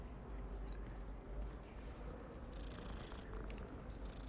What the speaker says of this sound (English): Oh, pretty kitty.